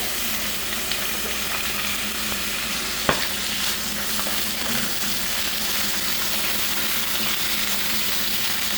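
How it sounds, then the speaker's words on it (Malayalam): Onion, carrot and cabbage frying in a pan for capsicum fried rice, a steady loud sizzle throughout with a sharp stir or scrape clink partway, no talk. "ഇതൊന്ന് കുറച്ച് നേരം ഒന്ന് ഫ്രൈ ആക്കണം."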